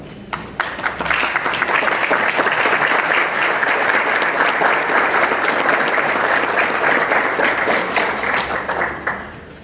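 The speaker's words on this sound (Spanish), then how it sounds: "los recibiremos con un cálido aplauso" Warm audience applause greeting panelists as they take their seats at an Oxfam forum, a full, steady wash of many hands clapping that holds for nearly ten seconds before tapering off at the end.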